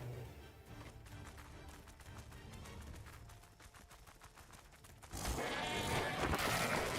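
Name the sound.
sheep bleating in the video game Ark Ragnarok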